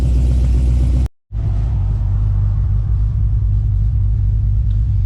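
A deep, rumbling Pontiac GTO with a Borla exhaust and cutouts drones loudly and steadily while driving, with a brief cutout near the start before the throaty rumble resumes.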